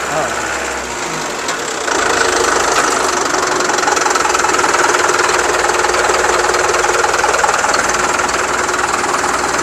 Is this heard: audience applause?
no